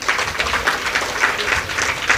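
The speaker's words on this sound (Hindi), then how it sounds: "बिल्कुल ताली" An audience claps loudly and steadily in unison at a live Devi Bhagwat Katha religious discourse, a short continuous burst of applause.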